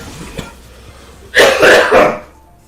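Several harsh, close coughs burst out in a quick cluster after a brief quiet stretch, loud and raspy.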